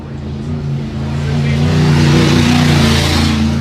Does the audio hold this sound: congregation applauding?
no